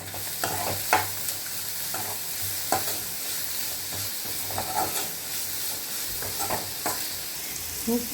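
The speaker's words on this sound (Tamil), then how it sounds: "இதெல்லாம் போட்டு கொஞ்சம் வதக்கிக்கலாம்." Dried red chillies, salt and coriander seeds sauté in a hot pan for mutton kola urundai, with a steady sizzle and repeated scraping stirs of a spoon, close and moderately loud, with no talking.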